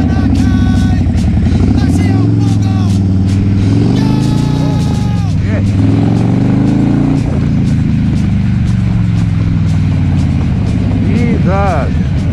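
Car fitted with an RBW Skull exhaust, in its most aggressive mode, revving hard on a freeway: a loud, continuous engine roar with rising and falling pitch sweeps, heard under excited talk from the people inside.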